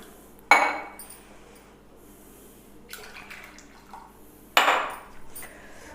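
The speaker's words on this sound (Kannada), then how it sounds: "ಫಸ್ಟು ಗ್ಯಾಸ್ ಸ್ಟವ್ ಹಚ್ಕೊಳ್ಳಿ, ಪಾತ್ರೆ ಇಡಿ, ಆಮೇಲೆ 2 ಲೋಟ ನೀರು ಹಾಕಿ" A cooking pot set down on a gas stove and water poured into it, two sharp clanks of the metal pot each followed by a short splashing pour, close by, with a faint burner hum underneath.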